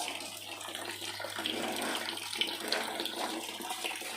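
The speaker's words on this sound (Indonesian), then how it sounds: "siram aja agar kokopitnya tadi sedikit terbuang" Running water splashes and gurgles steadily over a few seconds, rinsing coco peat off plant cuttings, close by, with no voices.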